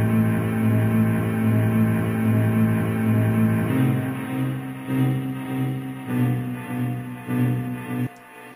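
An instrument pad built from a sampled snippet of an old movie drones with rich sustained low harmonic tones, steady at first, then pulsing in swelling phrases before cutting off abruptly.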